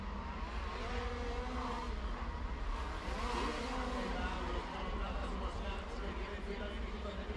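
KZ racing karts at a CIK FIA European Championship final rounding the last corner, a dense steady drone of many two-stroke engines at close range under continuous commentary.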